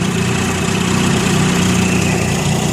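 Small carbureted engine idling after fuel-system and spark-plug work, a steady low rumble with faint vibration, close and continuous throughout.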